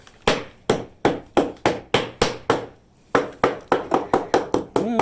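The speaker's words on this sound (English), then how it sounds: "Let me grab a hammer. Let's see how bad this is." Sharp, loud hammer blows on rotted, water-damaged wood trim in a steady rhythm, about sixteen strikes with a brief pause midway, the later blows quicker together.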